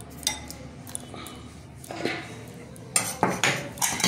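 A spoon scraping and clinking against a bowl while momo filling with butter and salt is mixed, several sharp metallic taps and scrapes, close and clear in a quiet kitchen.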